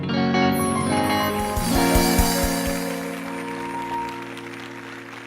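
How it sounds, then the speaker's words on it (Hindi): Church congregation applauding during a sermon: a brief patter of claps in a reverberant hall, mixed with sustained music and room tones. "तो तालियों के साथ तारीफ करते हुए"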